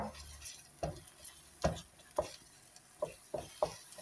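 Soft, irregular scraping taps of a utensil stirring egg in a frying pan, about seven strokes over a faint background hiss.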